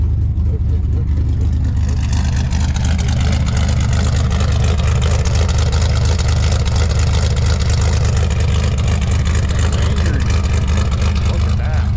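A hot rod's engine runs steadily after a new distributor install, a loud continuous low rumble throughout on a cold day, with someone talking over it.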